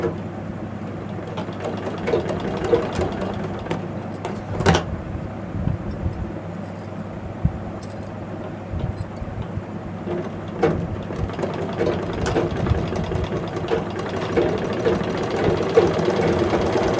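Sewing machine stitching a nightie: a steady, moderate motor whir with light mechanical ticking runs throughout, with no talking.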